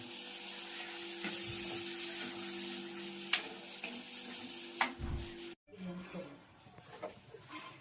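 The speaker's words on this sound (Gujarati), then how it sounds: "અને આ નિમક સરસ મજાનો વઘાર થઈ ગયો છે." Tempering for a Gujarati sev tomato curry sizzling steadily in hot oil while a spoon stirs and clinks against the pan, with a constant hum beneath and a few sharp knocks, then quieter rustling after a brief cut.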